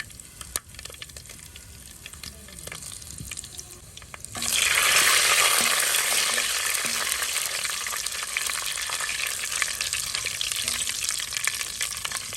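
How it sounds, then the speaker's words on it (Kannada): Mustard seeds sputter and crackle in hot oil along with curry leaves, a piece of asafoetida and cut dried red chillies for a potato saaru, a dense fizzing sizzle that bursts in loudly after a quieter stretch and keeps crackling steadily. "ಸಾಸಿವೆ ಹೊಡಿತಾ ಉಂಟು"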